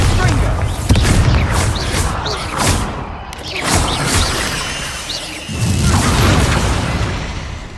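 Loud booming blasts and shattering crashes from spells like Bombarda in the Hogwarts Legacy video game, several heavy impacts with rumbling debris over a constant game backdrop.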